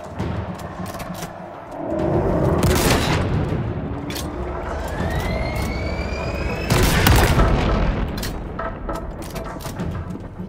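Rocket explosions in Halo Infinite gameplay: a dense burst of booms and gunfire erupts, fades to a rumbling mix with rising whines, then a second loud blast cluster hits before scattered shots trail off.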